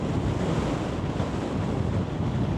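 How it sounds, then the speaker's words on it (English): Strong wind buffeting the microphone with crashing waves at Iceland's westernmost point, a loud, steady roar throughout with no talking. "it is super windy here."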